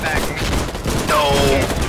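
Gunfire during a beach landing attack in the war game Foxhole: a short, dense crackle of overlapping shots, with players shouting over it.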